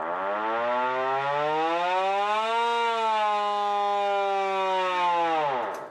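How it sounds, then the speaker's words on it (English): A loud Victorian air raid siren wails continuously, its pitch rising and holding steady before winding down sharply at the end. "Air raid siren? They make a hell of a noise."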